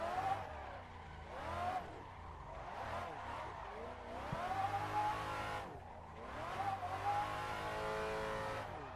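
Car tyres spinning and squealing in a racing video game, a revving engine rising and falling through repeated wheelspin surges, loud and close, with light talk underneath.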